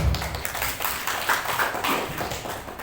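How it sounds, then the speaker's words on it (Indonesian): Audience applause at a regional deliberation forum on the Malili coastal sea, a dense continuous patter of many hands clapping for about three seconds at moderate loudness, with no talk over it. "Kita kasih tepuk tangan untuk PT Valen."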